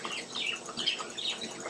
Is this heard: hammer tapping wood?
no